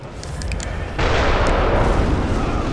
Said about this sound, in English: the Undead Giant, except a much bigger version of the one that we saw, and he has a cannon